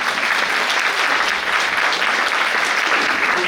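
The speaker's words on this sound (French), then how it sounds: "donc applaudissez encore plus fort." Steady, dense applause from a concert-hall audience greeting a speaker at a talk on Vosges forests, sustained and fairly loud throughout with no pauses.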